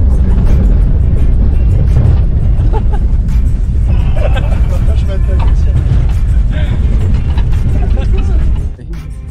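A bus rumbles heavily along a rough road in Iceland, its engine loud and constant with rattles and jolts, while passengers chatter in the background until the noise drops at the end.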